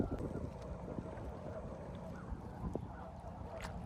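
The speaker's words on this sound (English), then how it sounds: "So do you hear the birds? Are those all ducks?" Ducks on a lake, heard outdoors as faint scattered calls and quacks under steady wind rumble and a distant boat motor, with no talking.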